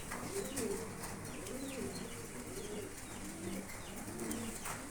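Lahori pigeons, a pair of top-quality birds, coo in low repeated rolling phrases, steady and fairly close over a constant background hum.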